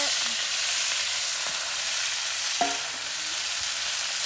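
Malancha and chhati greens dropped into a pan over onions fried red with chillies, a loud broad steady sizzle with a few faint clinks of stirring, close up and without talk.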